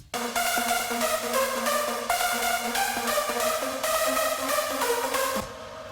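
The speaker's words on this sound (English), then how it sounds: "I have my real JP1000 keyboard, which has been recorded as an audio track, and it sounds like this." A JP1000 synthesizer keyboard plays a recorded trance anthem track, bright sustained chords shifting in a steady rhythmic pattern, loud and alone before fading at the end.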